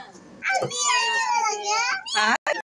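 A child imitates a cat's meow at a birthday party, giving one long, drawn-out, whiny mew up close, followed by a couple of short vocal bursts.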